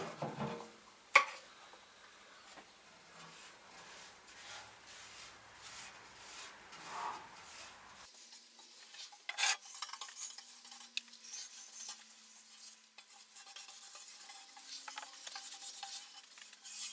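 Cure Rust rust inhibitor brushed onto the steel front panel of a Land Rover Series III under rebuild, quiet intermittent rubbing and scratchy brush strokes with a few small knocks, close and faint, without talk.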